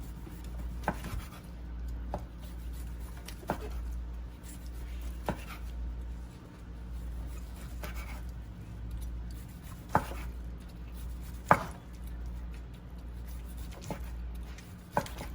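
Oven-cooked brisket being sliced against the grain on a board, with sparse soft knife thuds spread out irregularly over a low steady background hum and no talking.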